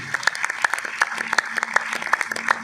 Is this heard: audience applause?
yes